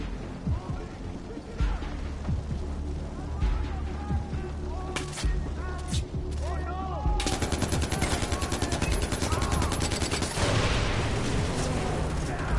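Automatic gunfire from a video game, firing in repeated bursts of rapid shots that grow denser and more continuous toward the end, loud and close over a busy game soundscape.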